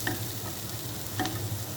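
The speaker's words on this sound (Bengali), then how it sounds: "পটলটা ভাজা হয়ে গেছে" Pointed gourd slices frying in a pan over lowered heat, a soft continuous sizzle with a few faint utensil taps near the start and end.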